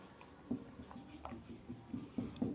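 Chalk or pen taps and scratches out an equation in short, irregular strokes, faint and close, with quiet room tone between marks during a class 10 arithmetic progression lesson.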